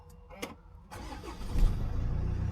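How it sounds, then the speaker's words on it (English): A Jaguar car engine cranks briefly and then catches, settling into a steady, close idle rumble. "Car starts."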